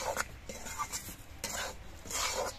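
A spatula scrapes and stirs semolina frying in melted ghee in a pan, giving repeated soft scraping strokes with faint sizzling, close and quiet, and no voices.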